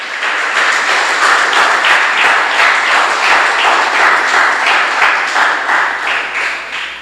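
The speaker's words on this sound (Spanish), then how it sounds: "Denle un aplauso al Señor." Steady, vigorous applause fills a church congregation praising the Lord, many hands clapping together in a loud continuous wash that holds for several seconds.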